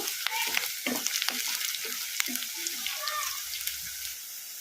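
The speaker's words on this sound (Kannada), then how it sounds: "ಇದನ್ನು ಮೀಡಿಯಮ್ ಫ್ಲೇಮಲ್ಲೇ ಫ್ರೈ ಮಾಡ್ಕೋಬೇಕು ಈ ಥರ ಕಲಿಸ್ಕೊಂತ ಫ್ರೈ ಮಾಡ್ಕೋಬೇಕು" Chopped onions fry in a pan over a medium flame, a steady close sizzle broken by repeated scraping stirs of a spoon against the pan.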